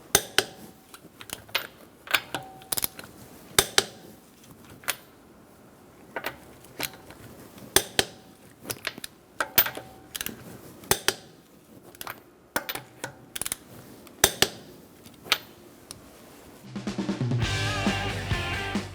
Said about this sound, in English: We're going to torque this to 100 foot-pounds in a star-like pattern using a 19mm socket.